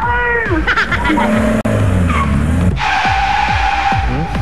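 A car brakes hard and its tires screech and skid loudly over several seconds, with engine noise and a sharp squealing tone near the end.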